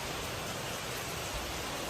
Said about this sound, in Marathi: पाऊस बघा किती सुरू आहे